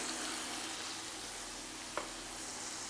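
Burger patty frying in oil in a pan over medium heat, a steady soft sizzle with one small clink partway through, no talking.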